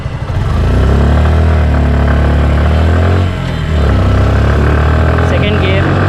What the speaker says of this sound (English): let's see the engine sound. So very silent and refined engine.